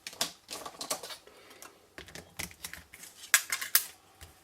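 A Big Shot die cutting machine cranks cardstock through its rollers, making close, quiet, irregular clicking and ratcheting taps in short bursts with no voices.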